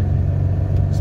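A car engine pulls hard under acceleration, heard as a loud, close, steady low roar and rumble from inside the vehicle with no talk.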